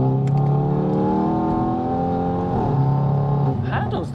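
A stage 2 Hyundai i30N with a DCT gearbox revs hard and drops through downshifts, its loud engine tone sweeping up and falling with a brief dip near the end, heard from close by.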